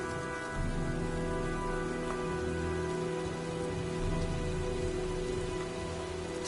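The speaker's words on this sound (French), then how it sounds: "Je crois qu'un orage se prépare." Rain falls in the video game Heavy Rain as a storm approaches: a steady patter and hiss sits over sustained low tonal drones, with no voices.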